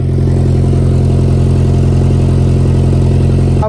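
A car engine with an exhaust leak idles steadily up close, loud and constant, with a rough, slightly raspy exhaust note throughout.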